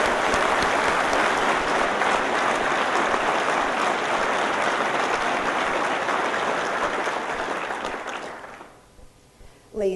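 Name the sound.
round of applause for the color guard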